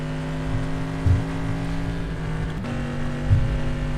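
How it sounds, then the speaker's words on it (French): Cadillac DPi race car with a V8 engine in the rFactor 2 sim, a steady harmonic drone holding at constant revs with a slight pitch drop near the middle, fairly close and continuous with no talking. "Donc le son hein, de cette Cadillac, alors je sais pas ce que c'est, je pense que c'est un V8,"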